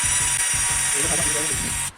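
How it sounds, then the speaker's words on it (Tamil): Black+Decker drill driver boring into wood, a loud steady motor whine with rhythmic pulsing as the bit bites, running continuously for about two seconds before stopping abruptly. "இந்த ட்ரில்லர் வந்து எவ்வளோ ஸ்மூத்தாக இந்த மரத்தில் வந்து ட்ரில் பண்ணிகிட்ருக்குன்ட்டு"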